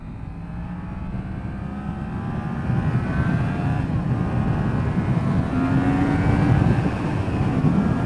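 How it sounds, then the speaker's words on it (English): A 2016 Yamaha MT-10 motorcycle accelerates hard in second gear, its rising engine note heard from the rider's position beneath heavy wind roar that swells as speed builds. "I just sort of pulled the throttle in a little bit more in second gear"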